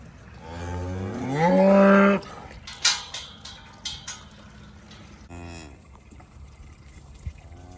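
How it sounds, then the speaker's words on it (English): A farm calf lets out one loud, drawn-out moo up close, followed by quieter rustling and a few faint knocks, then a softer low call near the end. "Every calf we've had on the farm, I've been able to get really good moos"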